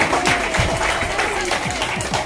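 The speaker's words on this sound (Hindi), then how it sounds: "जोरदार तालियां होनी चाहिए मैडम के लिए" Applause from an audience at a Diwali celebration in Virar, greeting the event's organizer, with dense clapping continuing steadily throughout and voices mixed in under it.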